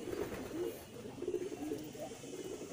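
Racing pigeons coo softly in repeated low, rolling calls, fairly faint against a quiet outdoor background.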